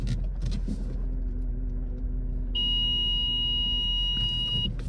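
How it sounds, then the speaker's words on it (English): A car parking sensor sounds a steady high-pitched tone that starts partway through and holds continuously over a low engine rumble. "Parking sensors."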